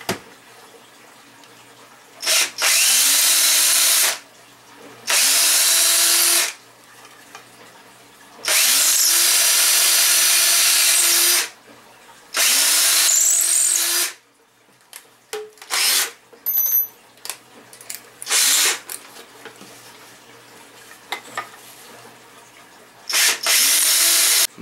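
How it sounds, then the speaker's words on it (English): A power drill bores holes through a wooden walking stick, stepping up to bigger bits, in several loud whining bursts of a few seconds each, spinning up and down, with quieter handling noises between. "I started with a small bit, now I work up bigger bits."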